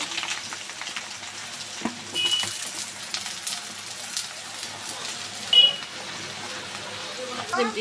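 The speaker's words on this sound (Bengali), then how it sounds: "বেগুনগুলো আমি তেলে সুন্দর করে ভেজে নেব" Two eggplants fry in oil in a wok with a soft, continuous sizzle and occasional stirring clatter, moderately close, with a few louder bumps.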